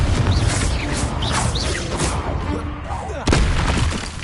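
A Confringo fire spell blast in Hogwarts Legacy, with booming bursts under dense game effects and a sharp loud impact near the end.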